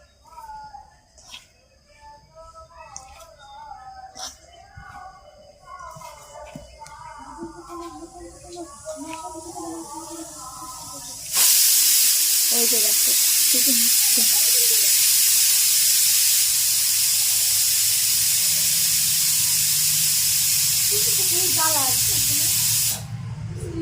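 A pressure cooker boiling chana dal releases a loud, steady hiss of steam for about twelve seconds, following a stretch of quieter kitchen sounds and background voices, with a faint voice heard under the hiss.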